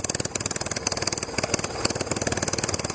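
Small motor running rich, a loud, close, rapid steady chugging pulse that stays even with no talk.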